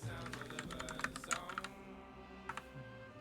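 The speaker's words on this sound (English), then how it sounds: "We could get a little typing, a little keyboard ASMR" Computer keyboard typing sounds as quick, light clicking keystrokes in an uneven burst, close but fairly quiet, tapering off and then resuming briefly with a short second flurry.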